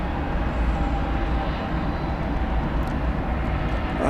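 An Aerologic Boeing 777 cargo jet arriving at DFW Airport from Toronto, heard as a steady, fairly distant roar that holds without a break for several seconds.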